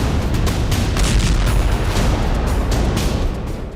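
A heavy bomb blast destroying an Israeli Merkava tank in Gaza, a loud, dense rumbling roar that holds for several seconds before starting to fade.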